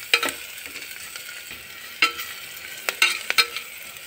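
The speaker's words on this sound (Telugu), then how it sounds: "లైట్గా వేయించుకోవాలి." Turmeric and spices lightly frying in a pan for mutton paya soup, with a faint steady sizzle broken by several sharp clinks and scrapes of stirring, close and with no talk.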